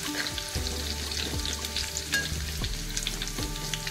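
Chopped garlic crackles and sizzles steadily in hot oil in a pan, the base for a mackerel curry, frying close and continuous with no voices.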